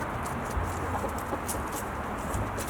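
A rooster and several hens cluck while being fed bread edges, a dense, continuous, close-up chorus of clucking over steady noisy background hiss.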